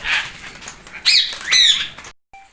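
A frightened pet parrot flaps its wings in two loud bursts as it scrambles away from an outstretched hand, with flurries of feathers and a faint chirp at the end.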